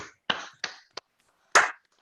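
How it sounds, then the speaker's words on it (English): Applause for a speaker at an online talk: a handful of sparse, sharp claps, four or five distinct slaps, quiet and isolated against near-silence. "give a big applause to Pamela"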